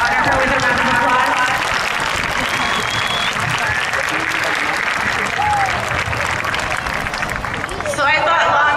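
A graduation crowd claps steadily and loudly throughout, a dense wall of applause with a few cheers and whoops rising above it.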